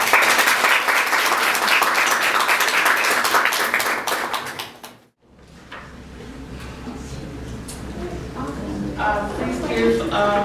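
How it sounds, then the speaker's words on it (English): An audience at the VCS Spring Symposium 2022 applauds this year's Alumni Award winner, with dense, steady clapping for about five seconds that stops abruptly. A quieter, more scattered patter of hands and room noise follows. "Please give this year's VCS Alumni Award winner one more round of applause, Dorothy Santos."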